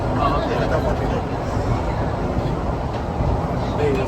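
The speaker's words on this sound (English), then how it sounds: "This is a new train." A new SMRT Thomson-East Coast Line train riding between Tanjong Rhu and Katong Park rumbles steadily from inside the car, a constant loud roar with faint squeals.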